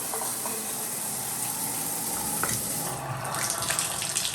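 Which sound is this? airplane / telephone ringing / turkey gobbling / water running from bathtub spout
water running from bathtub spout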